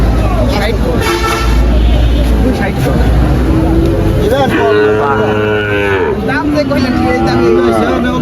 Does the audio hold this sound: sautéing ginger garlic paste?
no